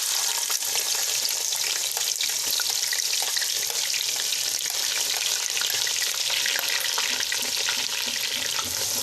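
Onions frying in a cup of hot ghee, a loud, dense, continuous sizzle with stirring that keeps going without a break and with no voices.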